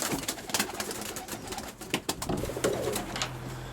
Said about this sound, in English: The birds in this box